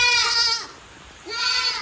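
Goats and young kids on a farm on a rainy evening give two loud, close bleats, a wavering cry at the start and another near the end, separated by a quiet pause.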